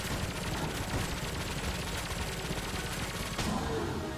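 The Gunder Fury gun in Enter the Gungeon fires flak bullets in a dense, continuous barrage of rapid overlapping shots, loud and unbroken across the whole stretch, with no voices.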